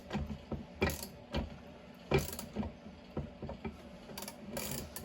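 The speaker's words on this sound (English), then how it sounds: "as I'm cranking it, it's pulling the crankcase down into the bearing" A Husqvarna 385 chainsaw crankcase is cranked down onto its bearing during a bottom-end rebuild, giving a string of quiet, irregular metallic clicks and ratcheting snaps.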